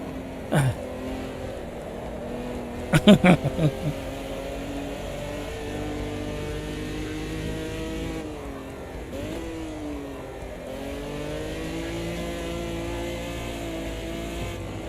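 Race car engine in the Automobilista 2 sim racing game, a steady sustained drone with shifting pitch as it revs and eases off, a few brief sharp knocks early on, no talk.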